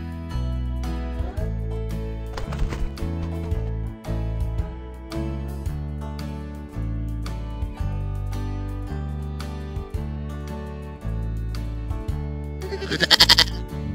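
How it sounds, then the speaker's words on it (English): A single goat bleat sounds near the end, clear against steady background music. "Goat."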